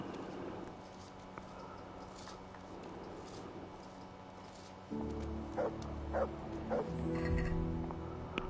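A dog in the video game Kingdom Come Deliverance barks and whimpers in a few short bursts over a low, steady game ambience, fairly faint and without speech.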